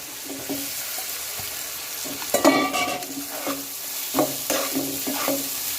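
Spices with turmeric being stirred in hot oil for corn chevdo, a steady sizzle broken by repeated scraping and clanking strokes of a spoon against the pan.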